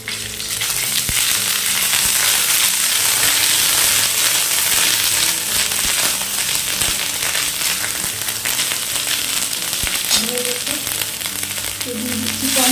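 Crushed garlic and ginger paste frying in a pan, a loud, steady close sizzle with occasional stirring scrapes, continuous throughout with no talk.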